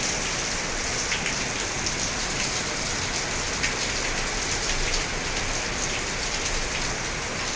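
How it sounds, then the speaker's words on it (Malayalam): Heavy rain falls steadily in Ernakulam, a dense, continuous wash of drops on surfaces with no pauses or voices, loud and close throughout. "നല്ല മഴയാണ്."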